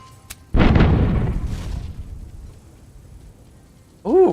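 A broadside of ship cannons fires in the pirate video game Tortuga: A Pirate's Tale, with one loud boom that rolls into a long rumbling decay, ending in a short burst of another sound.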